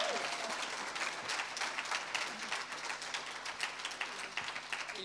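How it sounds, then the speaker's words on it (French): Supporters at a baptism celebration applaud in a steady, dense wash of clapping that holds evenly for several seconds at a moderate distance. "vous pouvez applaudir."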